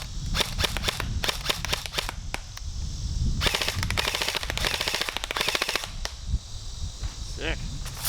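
A G&G CM16 airsoft rifle running on a 9.6 volt battery fires nearby, starting with quick single snapping shots and then crackling full-auto bursts, with a few isolated shots toward the end.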